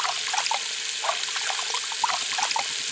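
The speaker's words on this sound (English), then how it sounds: "The sound of the water flowing away from down the sink pipes" Water trickles and gurgles as it drains away down sink pipes in the video game Bad Faith, a steady close wash of liquid with small bubbling spatters throughout.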